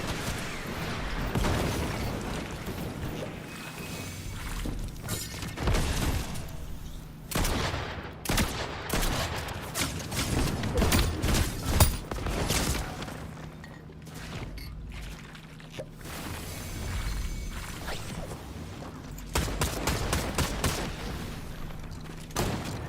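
Gunfire in the Fortnite video game, with repeated bursts of shots and rapid volleys scattered throughout at varying loudness, some sharp and close, others more distant.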